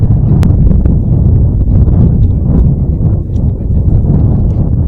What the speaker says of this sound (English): And the winds are absolutely insane.